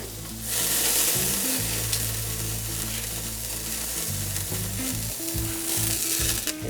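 Flat iron steak sizzles loudly and steadily on a hot grill, a dense close hiss that runs unbroken through the whole stretch.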